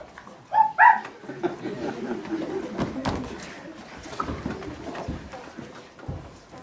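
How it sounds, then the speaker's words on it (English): A landlord's dog gives two quick, sharp barks near the start, followed by a lower murmur of indoor room sound and movement. "And his dog, Rexy."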